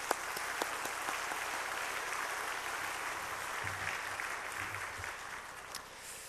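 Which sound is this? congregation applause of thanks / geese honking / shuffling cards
congregation applause of thanks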